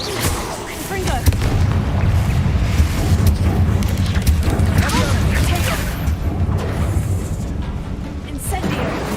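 Confringo explosion spells cast in a Harry Potter video game fill the scene with dense, loud booms and rumbling blasts, with game voices faintly underneath.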